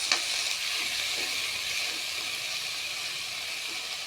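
Cumin powder and spices sizzle steadily in a hot frying pan while being stirred, a continuous bright hiss with a small scrape near the start, close and fairly loud with no talk.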